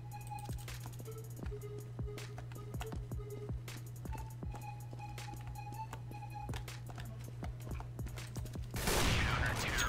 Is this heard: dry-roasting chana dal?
no